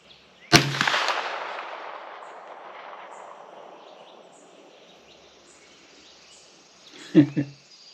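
A 9mm Aero Precision EPC carbine fires Blazer 124-grain round-nose rounds outdoors at a range: one loud sharp report with a long fading echo, then two quicker, quieter bangs near the end.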